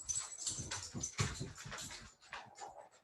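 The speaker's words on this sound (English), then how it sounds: "As if on cue, here come the dogs." Dogs arrive at the end of a yoga class, giving a string of short, close whimpers and snuffling noises with scrabbling patter, irregular and fairly loud.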